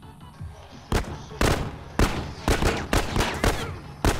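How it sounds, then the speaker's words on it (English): Gunfire in a video game firing in quick bursts, with about eight sharp, loud cracks at irregular intervals over a low background rumble. "y'all are just shooting blindly right there"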